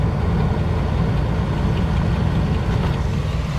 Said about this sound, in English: eventually we're going to hear that AC compressor just engage